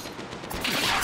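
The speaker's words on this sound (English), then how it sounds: "Getting shot." A short burst of gunfire striking the player in Apex Legends, a dense rattling volley that swells louder toward the end of about a second, with no talking over it.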